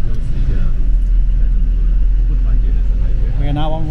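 Low steady engine rumble inside a bus travelling through the Swiss Alps toward Lauterbrunnen, a constant deep drone with faint voices and a brief higher sound near the end.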